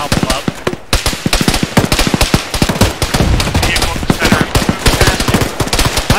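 Heavy, continuous automatic gunfire in Arma combat, loud rapid bursts from several weapons overlapping in a relentless crackling stream with sharp individual shots throughout.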